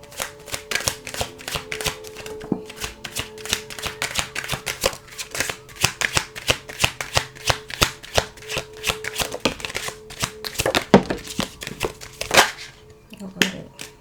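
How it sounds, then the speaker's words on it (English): Someone shuffles a deck of tarot cards by hand, making a long run of quick, crisp riffling clicks and slaps close to the microphone, with brief gaps between bursts. "So I'm going to shuffle these cards so we can get some affirmations for you"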